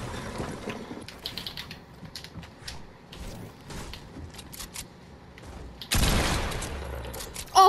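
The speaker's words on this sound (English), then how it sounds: "Oh, drum gun." The drum gun firing in Fortnite, a fast rattling stream of shots with mechanical clicks, ending in a sudden louder blast of gunfire.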